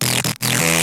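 A 303-style acid bass synth processed with mid-side EQ, a buzzy, bright sustained tone that cuts out for a moment near the middle of the brief burst, loud and up close.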